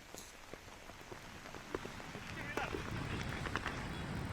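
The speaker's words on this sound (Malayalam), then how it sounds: "അല്പസമയം മുമ്പാണ് ശക്തമായ മഴ വീണ്ടും തിരുവനന്തപുരത്ത് ആരംഭിച്ചിരിക്കുന്നത്." Heavy rain falls steadily in Thiruvananthapuram near Shankumugham on the coast, a dense wash of drops that grows louder toward the end, with scattered sharper splashes.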